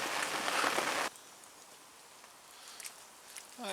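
Rain falls steadily at a carp fishing swim, a dense close patter that suddenly cuts off after about a second, leaving faint drips and light rustles before another brief burst.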